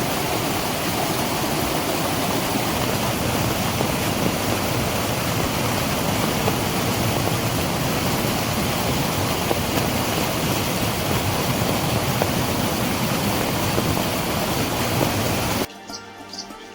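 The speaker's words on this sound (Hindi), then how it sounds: "यहाँ से बहता हुआ आ रहा है, पूरा गधेरा।" Flooded mountain stream in Uttarakhand after heavy rain, carrying wood and stones, rushing loudly and continuously, a dense roaring wash of water close by, cutting off abruptly at the end.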